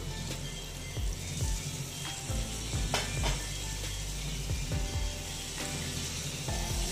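Potatoes sauté in a pan for a soya chunk and potato curry, a steady close sizzle broken by a few low scraping sweeps as the pieces are stirred, with no voices.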